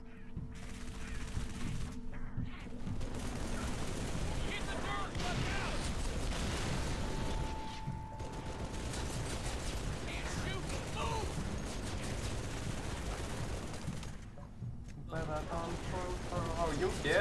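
Halo 3: ODST gunfire in a heavy firefight, continuous dense crackling bursts and booms with several short drops in the din, while voices shout over the shooting.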